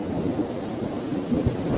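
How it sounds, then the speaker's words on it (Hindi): Steady, dense rain with a constant broadband hiss and low rumbling underneath, a continuous downpour with no voices. "बारिश पूरे जोरों पर जारी है।"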